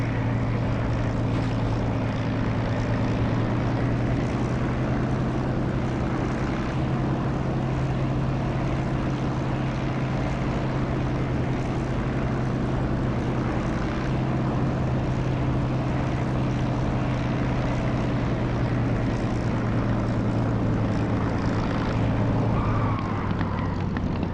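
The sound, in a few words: aircraft engine while landing in video game DCS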